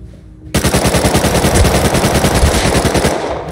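Sustained automatic gunfire in Rust Console Edition, a loud, rapid burst of shots starting abruptly and continuing for about three seconds, with no talk over it.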